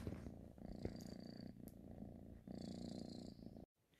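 A cat purrs close up in a low, rhythmic rumble, with a couple of soft breaks and a brief silence near the end.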